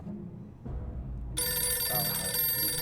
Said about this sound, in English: A ringing telephone? That's a new sound.